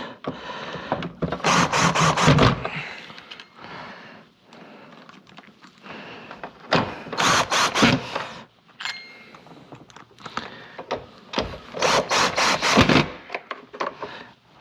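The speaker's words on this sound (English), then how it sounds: "Doesn't that just make like the most worst creaking sound?" Creaking and rubbing from a Kenmore Progressive bagless upright vacuum, model 116.36932, while it is being repaired: three loud, scraping bursts spaced a few seconds apart, with quieter rasping and handling noises in between.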